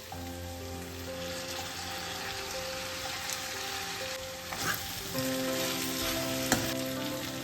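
Ivy gourd frying with tamarind in a pan, a steady close sizzle with occasional stirring scrapes, and a few brief clatters around the middle.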